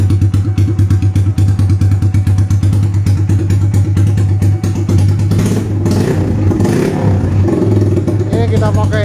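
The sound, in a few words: custom motorcycle engine running through 3 mm exhaust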